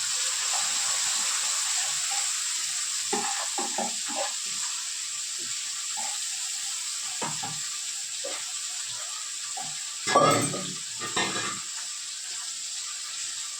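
A spice paste of ginger, green chilli, cumin, coriander, turmeric and onion fries in a pan with a constant broad sizzle, with scattered soft stirring taps and a brief louder burst near the end.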